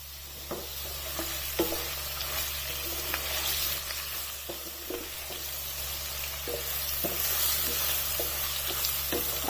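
Spice mix with coriander powder, salt and ginger-garlic paste stirred in a pan for potato curry, a steady sizzle of frying under repeated scraping strokes of the spoon, close and moderately loud, no talk.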